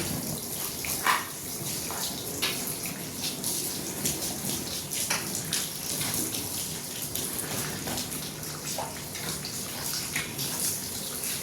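Plain water splashing and trickling steadily over a car being scrubbed by hand without soap, with scattered drips and rubbing sounds, fairly close and continuous.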